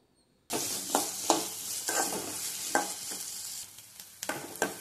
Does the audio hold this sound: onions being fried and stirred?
yes